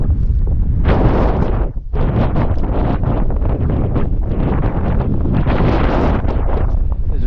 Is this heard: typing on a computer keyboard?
no